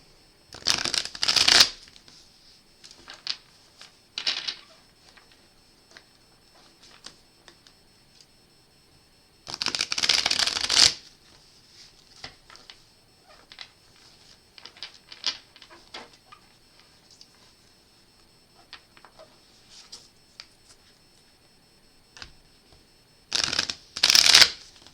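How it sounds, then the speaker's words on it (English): A deck of cards being shuffled during a card reading, with three short crisp riffle bursts spaced well apart and quieter card handling and taps in between. "I'm going to give a couple of good shuffles here."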